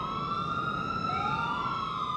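A police car siren from the game GTA 4 wails loudly and steadily, its rising and falling tones layered over a constant road rumble.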